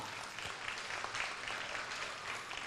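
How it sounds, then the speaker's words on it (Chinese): An audience at a school graduation ceremony gives faint, distant applause, a soft continuous patter of many hands clapping steadily for the whole stretch. "给他们掌声鼓励一下。"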